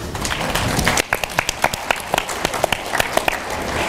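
At a conference on race and racial justice, an audience breaks into applause that thins after a second into scattered individual claps, close and fairly loud, with no talking.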